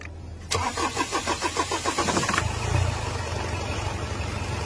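A Ford car with a hard-starting engine: a rhythmic cranking chug of the starter for about two seconds, then the engine catches and settles into a steady, rumbling idle, close and fairly loud, with no talk.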